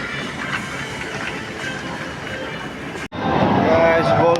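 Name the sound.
train in Sikkim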